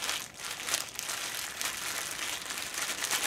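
A plastic bag crinkles steadily as an oiled foam air filter from a Yard Machines MTD lawnmower is squeezed and massaged inside it, a close, continuous rustling texture with no speech.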